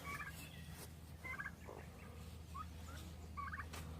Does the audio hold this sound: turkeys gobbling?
yes